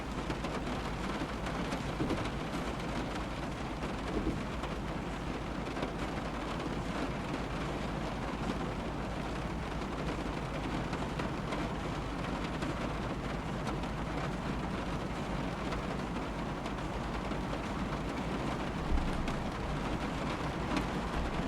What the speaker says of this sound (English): I wonder if this rain will ever stop.